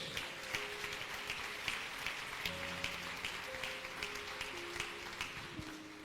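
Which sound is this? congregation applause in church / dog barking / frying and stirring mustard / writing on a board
congregation applause in church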